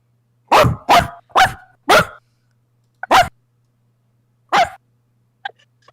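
A person imitates a medium dog's barks: four quick woofs in a row, then two more spaced out, loud and close.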